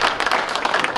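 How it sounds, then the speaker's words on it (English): An audience at a public information meeting applauds, a dense, steady round of clapping from many hands that fills the whole moment without pause. "why don't you join me in giving them a round of applause for the information meeting"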